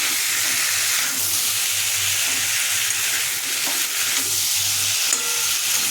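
Spice paste sizzles and fries steadily in a pan for a prawn, potato and pointed gourd curry, a continuous close hiss with occasional stirring scrapes and no talk.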